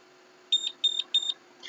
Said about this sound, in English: the three beeps show that the device has been now activated and connected to the gateway